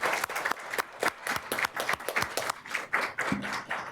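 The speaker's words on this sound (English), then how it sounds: "Can I get a round of applause for Johanna?" Attendees at a meeting of an education department committee applaud together for an honoree, a dense burst of many hands clapping that stays loud and even for several seconds.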